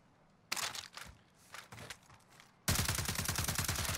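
Gunfire from a weapon in the video game Warzone: several quick bursts of shots, then a sustained rapid automatic stream, loud and close with no talk.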